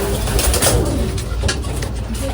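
Pigeons in a collapsible loft, about thirty birds, give a fairly loud, steady mix of cooing and bird calls with no break over the short stretch and no talking.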